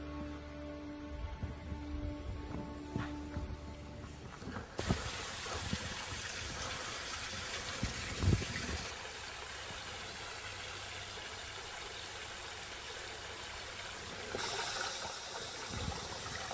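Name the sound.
water flowing in a stream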